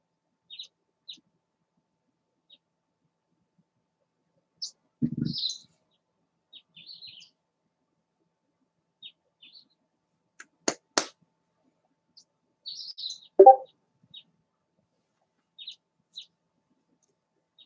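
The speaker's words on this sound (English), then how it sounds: "can you hear the little birds chirping in the background, Mr. P?" Sparse, high chirps from small birds scattered across a quiet background, with a couple of louder knocks and a brief low thump in between.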